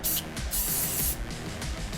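A can of cheap hairspray sprayed onto a 3D printer bed in several close, loud hissing bursts with brief pauses between them.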